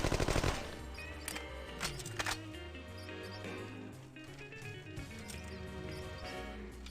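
A Tommy gun fires in No One Lives Forever 2, with a loud burst at the start followed by scattered, irregular shots over game music and ambience.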